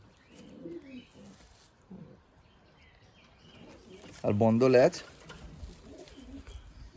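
Giribaj and Madras pigeons coo in one loud, rising burst close by, with fainter calls and chirps around it. People talk quietly before and after.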